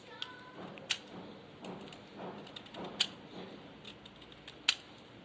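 A hand tool cuts and trims a scion, shaving it to a 45-degree wedge for cleft grafting. Sharp clicks and snips land at irregular moments between softer scraping strokes, close and fairly quiet, and no one speaks.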